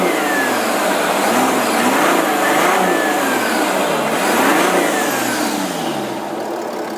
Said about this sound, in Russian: ну погазуй.